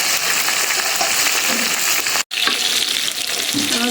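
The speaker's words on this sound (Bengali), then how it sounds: "ইলিশ মাছ ভাজা থেকে তেল আর উঠছে সেই তেলেই ভাজতেছি" Hilsa fish frying in the oil released from its own flesh, a dense, steady sizzle with crackling throughout, broken by a brief dropout midway.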